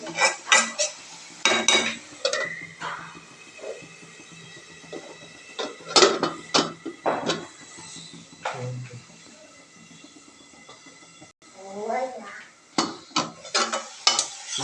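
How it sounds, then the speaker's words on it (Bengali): Pot and utensil clatter from stirring a potato and flat bean fry, sharp scraping clinks coming in bursts with a soft sizzle underneath, then a lid set down over the pot near the end; close and fairly loud. "নাড়াচাড়া করে আবার সুন্দর করে ঢেকে দিতে হবে"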